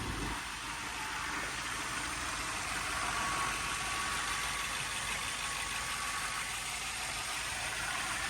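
A 4.3-liter V8 in a 2001 Lexus GS 430 with 126,000 miles idles steadily and smoothly for the whole stretch, a low even hum with a faint high whine, no talk.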